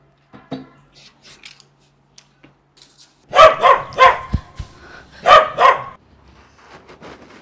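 A dog barks loudly and close by, about five sharp barks in a tight burst that breaks a near-silent stretch, followed by quiet again.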